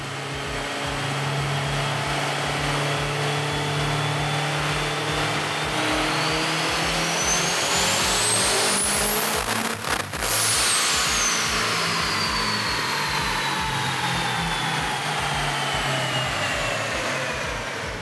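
A Ford 6.0L Powerstroke diesel pickup roars steadily on a chassis dyno as it is run up through the gears, a rising turbo whine peaking and falling away, loud and continuous with no talk.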